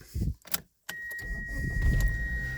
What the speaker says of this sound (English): when I crank it over, we'll see if it cranks over and crank, or if it just fires right up